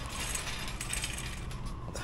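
Rattling shopping cart rolling through a Family Dollar store on restocking day, a continuous clattering, ratchety metallic jangle at moderate level with no talk.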